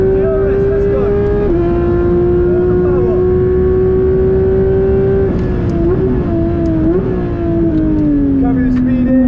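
A Porsche GT3RS on a track accelerates hard, its loud engine tone climbing through the revs and dropping briefly at gear shifts, close and continuous throughout.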